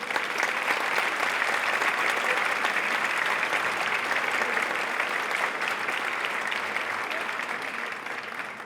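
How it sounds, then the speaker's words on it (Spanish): Sustained, dense applause from an audience at a pop awards ceremony, steady for several seconds and then easing slightly toward the end. "Aplauso"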